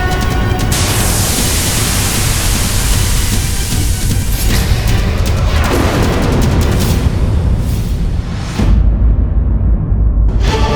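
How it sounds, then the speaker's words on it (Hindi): A dense roar of booming rumbles plays continuously at high volume, with a brief dip before one last heavy blast. "आकाश में हर ओर अग्नि और विस्फोट"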